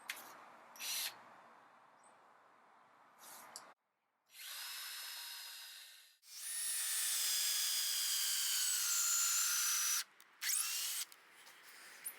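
A power drill drives screws into a macrocarpa wood planter box outdoors in Christchurch, New Zealand, with a short whir and then a long, loud, steady whine as a screw goes in, followed by brief bursts and quiet gaps.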